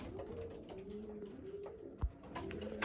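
Pigeons coo in a breeding loft, a steady low cooing running alone under faint background noise, with one brief thump near the end.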